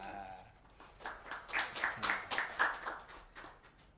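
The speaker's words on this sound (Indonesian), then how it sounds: "Tepuk tangan luar biasa" Applause for a guest introduced on a school arts program, a short burst of claps that swells and then fades, fairly faint and with no talk over it.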